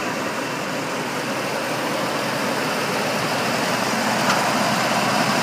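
A 1999 Dodge Ram Van 3500 long-wheelbase engine runs at a steady idle, a continuous close, even rumble with no clear start-up crank, alone without talk.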